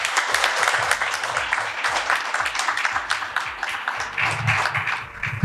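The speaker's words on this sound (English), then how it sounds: "I think we can give him another round of applause." An audience at a KBE memorial lecture fireside chat applauds Sir Nigel Boardman with a steady, full round of clapping throughout, and a voice speaks faintly underneath.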